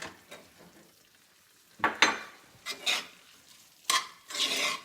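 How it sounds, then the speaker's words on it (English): Creamy garlic parmesan sauce with shrimp gets stirred in a pan, heard as several separate scraping, sloshing strokes with quiet gaps between them, close and fairly soft. "So let's stir this one up because we want that cheese to get melted in there."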